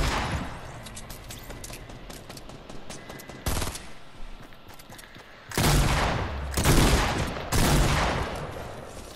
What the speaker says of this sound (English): Oh, I hear all those bullets.